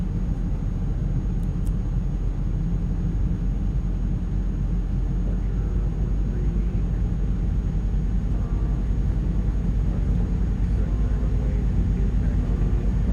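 Jet engines of an iniBuilds A300 spool up in a flight simulator, heard from the wing view as a loud, continuous low roar and rumble that holds steady throughout with a faint high whine, with no talking.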